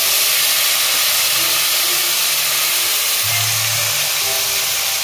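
Onion paste sizzles in hot oil in a pan of fried potatoes for a Bengali lentil-fritter curry: a steady, loud, hissing spatter that holds evenly throughout.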